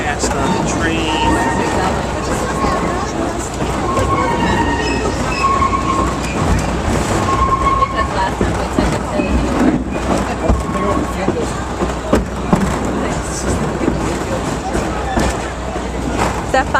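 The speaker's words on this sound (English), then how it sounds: "We're going so fast on the train." A train runs loudly along the rails with a rumbling roll, rhythmic wheel clatter and occasional high squeals from the wheels, while people talk over the noise throughout.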